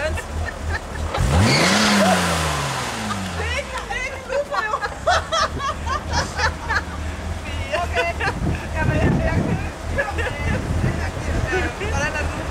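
A BMW 325i starts off on a test drive, its engine note climbing sharply as it pulls away, then settling into a steady drone with wind noise while people talk throughout.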